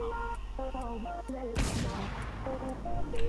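A toy gun fires during a gun test, heard as one loud, sharp burst amid ongoing talk.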